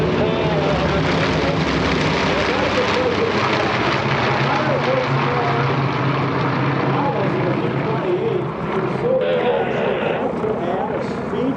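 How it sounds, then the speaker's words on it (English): A T-28 Trojan warbird roars past at an airshow, a loud continuous piston-engine drone with a shifting pitch that fills the whole stretch, and voices mixing in underneath. "listen to the roar of this. That has to be a T-28."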